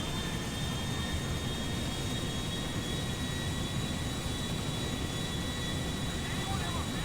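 A fixed-wing airplane's engines roar at full thrust during takeoff in the video game GTA 5, a dense, steady, loud wash of noise with no breaks.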